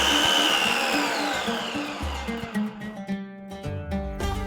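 A mixer grinder blends a falafel mixture of chickpeas, vegetables, spices and baking powder, whining loudly and changing pitch as it runs, then sputtering down in uneven bursts.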